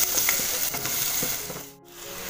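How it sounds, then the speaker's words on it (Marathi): Sesame seeds stir-fried in hot oil, a dense continuous crackling sizzle close up with a few light stirring scrapes, briefly dipping quieter near the end before the frying noise returns. "आता व्यवस्थित जरा असं परतून घ्यायचं"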